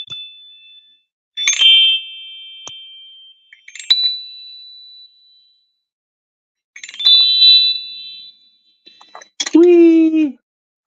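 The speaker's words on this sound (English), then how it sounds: "I'm going to smack the energy chimes a little bit here." Energy chimes struck by hand in several separate bursts, bright ringing metallic tones that decay with silences between strikes, the last strike ringing longest and fullest.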